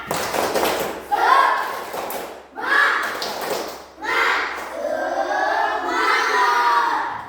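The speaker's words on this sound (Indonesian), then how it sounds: "Ayo, tepuk semangat." A school class in Indonesia performs a rhythmic clapping cheer, with bursts of claps and thumps between loud group chanting and shouting voices, fairly close and energetic throughout.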